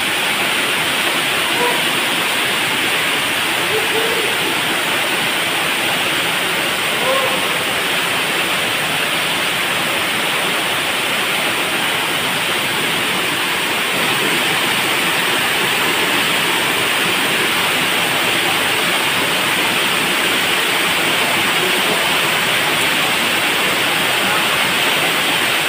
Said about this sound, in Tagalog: Ayan ang waterfall.